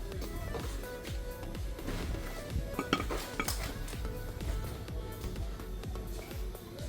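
Metal parts clink and scrape as the brake caliper guide pin bolts on a Mercedes C-Class W204 are handled. The light, irregular taps and rattles are close and fairly quiet.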